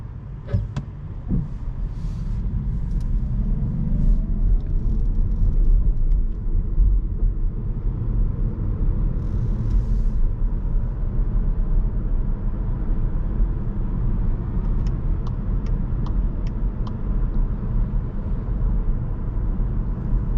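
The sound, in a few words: Škoda Octavia iV 2021 car driving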